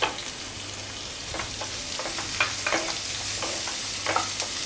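Finely chopped onions, two of them, sautéing over a low gas flame in a pan with a steady sizzle broken by frequent stirring scrapes, close and moderately loud with no talk.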